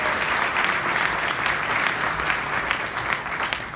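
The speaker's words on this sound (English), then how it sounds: "Give her a round of applause for Randy" Audience applause at an awards evening, a steady, fairly loud wash of clapping from a crowd throughout.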